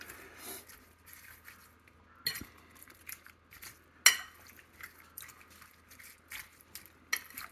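A fork tossing German cucumber salad with dill and onions in a bowl, quiet wet clicks and scrapes in an irregular rhythm with a few sharper taps against the dish, close up, no voices.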